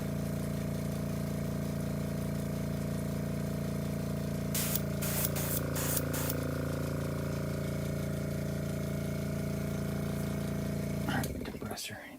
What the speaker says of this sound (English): Compressor, driving me bonkers.